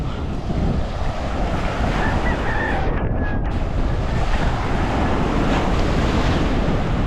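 Sea waves and surf rolling along the shore at Boulevard, Dipolog City, a steady loud broadband wash of water with heavy wind buffeting the microphone throughout.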